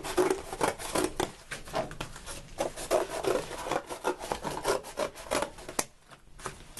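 Cardboard being cut to remove the flaps while making an elbow pad: a run of close, rough rasping and scraping strokes in an uneven rhythm, with no talking, fading briefly near the end.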